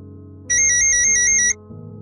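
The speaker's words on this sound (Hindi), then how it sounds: "अब किसका फोन आ गया?" An electronic phone ringtone rings for about a second as a loud, steady bright tone over low background hum, then cuts off.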